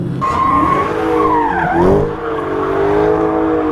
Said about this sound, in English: There was another Hellcat that just passed.